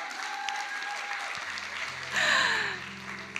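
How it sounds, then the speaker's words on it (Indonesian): Audience applause at a book launch for a biography, a steady broad wash of clapping that swells louder toward the end, with some tonal music underneath. "Tepuk tangan buat beliau."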